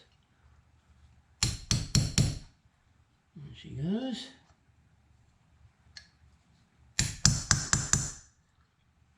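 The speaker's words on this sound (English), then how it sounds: "Little drift and a little hammer." Two quick bursts of sharp metallic taps from a small hammer on a drift, four or five strikes each, near and crisp, separated by a short spoken remark, during a 1967 Jaguar E-Type carburettor rebuild.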